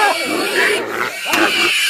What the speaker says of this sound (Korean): 정작 신랑은 돼지 모는 일에 공사다망합니다.